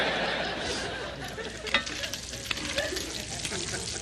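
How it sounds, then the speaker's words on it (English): Bacon sizzles and crackles steadily in a pan as it fries toward crispy, loud and close, with brief stirring or scraping sounds and faint voices in the background. "So that's why you start with the bacon first, getting it crispy."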